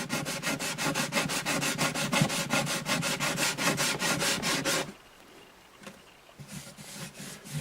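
Rhythmic back-and-forth sanding of a rosewood guitar bridge on an Alvarez acoustic, close and steady scraping strokes for several seconds, then stopping into quiet with a few faint handling sounds.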